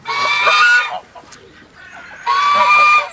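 Rescued former egg-laying hens at an animal sanctuary cluck and squawk in two loud, close bursts separated by a brief lull of softer farmyard murmur.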